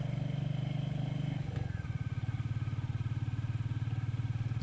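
A Meter motorcycle engine chugs steadily and close by along country lanes near Sedgwick, some of them partly resurfaced, its low pulsing throb continuous and loud with a brief shift midway.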